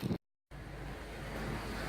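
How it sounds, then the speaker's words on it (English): Cold wind blows steadily outdoors near a building, a continuous rushing roar with microphone buffeting that stays loud after a brief dropout at the start. "It's windy and cold."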